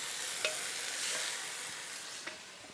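Beef and broccoli sizzling steadily in a pan as sauce is poured in and stirred, with a couple of soft scraping clicks from the utensil over the constant frying hiss.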